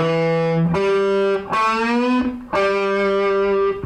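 Distorted electric guitar playing a string bend, three sustained bent notes sliding up in pitch, each attack clear and loud with heavy overdrive and a slightly chorused tone, played alone without talk.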